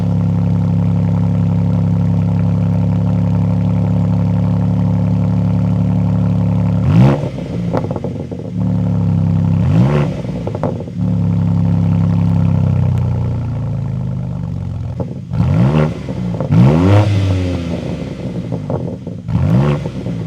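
A 2024 BMW M4 Competition with M Performance parts idles with a deep steady rumble, then is blipped several times in sharp, loud revs that rise and fall back, close up, with no voices.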